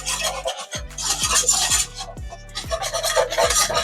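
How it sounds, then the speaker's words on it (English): A flour roux being stirred in a pan for Alfredo sauce, heard as steady rasping scrapes of a utensil across the pan in repeated strokes, close and fairly loud with no talking. "Okay, we got our roux moving."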